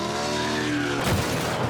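Racing cars in a demolition race pile-up skid and squeal, a loud tonal tire screech that breaks into a noisy crunch of impact, all close and without talk.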